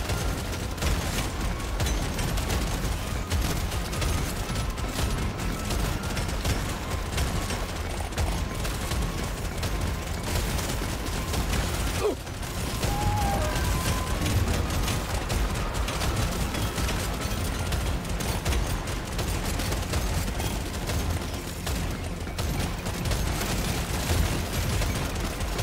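Steady, dense rattle of rapid gunfire from a weapon in the Deep Rock Galactic Survivor video game, continuous and fairly loud throughout with a brief dip midway.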